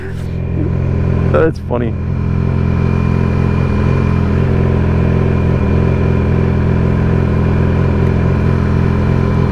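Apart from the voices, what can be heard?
Yamaha R6 motorcycle engine while moving into parking spot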